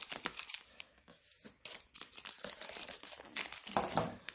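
Plastic wrap on a DJI Osmo Mobile 3 gimbal box being cut and torn open, with close, loud crinkling and tearing in repeated bursts and no talk.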